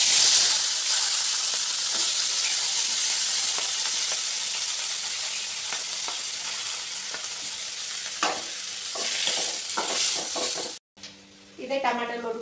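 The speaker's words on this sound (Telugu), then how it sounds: "ఇప్పుడు ఇదే నూనెలో కట్ చేసి పెట్టుకున్న టమాటాలు వేసుకోవాలి" Chopped tomatoes hit hot oil in a pan and fry with a loud, steady sizzle and hiss that slowly eases, broken by a few stirring scrapes, with a voice talking briefly at the end.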